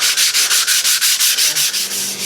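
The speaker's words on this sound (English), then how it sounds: "let's get sanding this thing and get it ready for the amber tint" 400 grit sandpaper rubs by hand over a Les Paul guitar body in quick, even back-and-forth strokes, loud and close, about a dozen rhythmic swishes.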